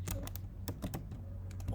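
Quick, irregular keystrokes clatter on a computer keyboard at close range, coming in short bursts with brief pauses between them.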